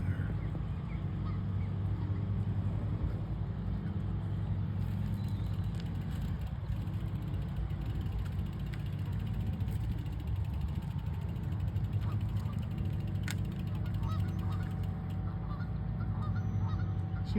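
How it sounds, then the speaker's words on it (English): Geese honking repeatedly beside the Illinois River, a steady flock calling at moderate distance over continuous low rumble from wind and passing bike riding. "Look at the little geese."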